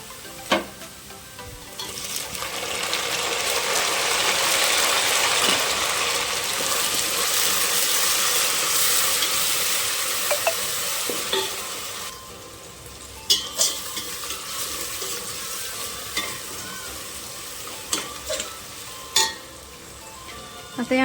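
Golden fried onion and tomato sizzle loudly in a pot for veg biryani, a strong hissing fry that swells for several seconds and then drops to quieter spatters and scraping stirs, heard close with no voices.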